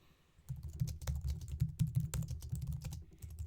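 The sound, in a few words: typing a message on a computer keyboard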